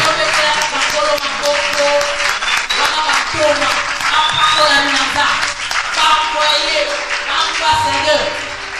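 A church congregation applauds and cheers in praise, with dense, sustained clapping filling the room at steady loudness throughout, voices mixed into the crowd noise.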